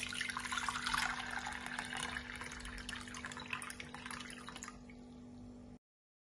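Water pours steadily from a tap over six eggs in a cooking pot, a close, continuous splashing fill that runs for several seconds and then stops abruptly.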